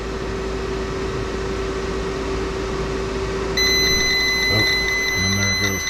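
A battery alarm in a solar panel setup starts beeping as a running heater drains the battery voltage, a steady high electronic tone cutting in over a constant fan-like hum.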